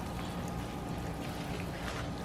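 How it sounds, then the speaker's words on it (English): Water poured over the leaves of a potted tomato plant makes a steady, soft wash of splashing and trickling that runs evenly and close by, with no voices. "we're going to go ahead and soak all the leaves"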